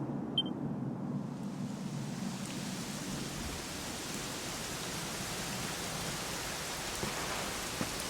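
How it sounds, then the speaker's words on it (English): Steady rain in the video game Dragon Quest XI falls, a dense soft hiss of drops that stays even throughout, with no voices. "it was raining like this the last time I ever saw her."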